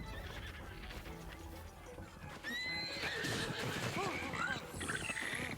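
In a Zelda video game, a horse gives a loud, close neigh with rising and falling whinny tones, while hoofbeats clop and mechanical game sounds play beneath it. A voice is briefly faint in the background.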